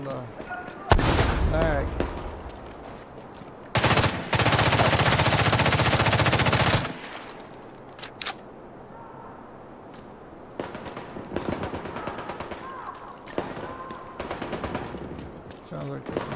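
Bursts of automatic gunfire from The Division 2 video game, loud rattling volleys including a long sustained burst, interspersed with quieter single shots and scattered firing, with brief talk between bursts.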